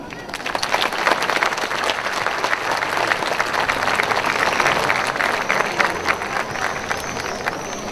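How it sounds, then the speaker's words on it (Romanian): A concert audience applauds the soloists of the George Enescu National University of Arts Iași orchestra, a loud, dense and continuous burst of clapping that holds steady throughout. "Să-i aplaudăm!"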